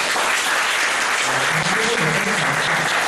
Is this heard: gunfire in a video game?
no